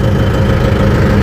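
A tractor engine runs at idle close by, a loud, steady low rumble with constant vibration and no talk over it.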